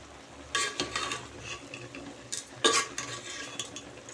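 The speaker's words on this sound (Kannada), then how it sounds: "ಈಗ ಸ್ವಲ್ಪ ಮಿಕ್ಸ್ ಮಾಡ್ಕೊಳ್ಳೋಣ." A spoon stirring Kesindari palya, a leaf stir-fry, in a pan: a few scraping, clattering strokes against the metal with a light sizzle underneath, close and fairly loud, no voices.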